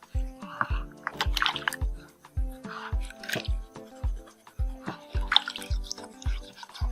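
Water drips and splashes in a steady series of short bursts as a pumpkin is rinsed and washed by hand for cooking, close and fairly loud, with a voice briefly heard underneath.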